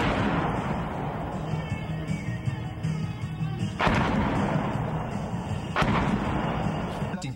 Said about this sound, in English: you'll see the mortar rounds impacting